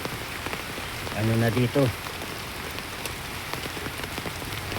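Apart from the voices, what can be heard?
heavy rain and wind during a typhoon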